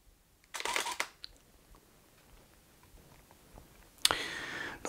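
A camera fitted with a Cobra flash fires twice, each shot a short burst of mechanical shutter and flash noise separated by about three seconds of near silence in a quiet studio.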